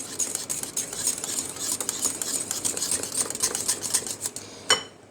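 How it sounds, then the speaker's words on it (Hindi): A spoon mixes ingredients into yogurt for fruit ice cream, scraping and clinking rapidly against a bowl in an uneven rhythm, with a louder knock near the end. "इसको भी इसके साथ थोड़ा सा हम मिक्स करेंगे।"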